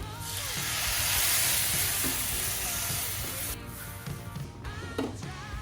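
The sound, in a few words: masala sizzling as second coconut milk is added, Kerala fish molly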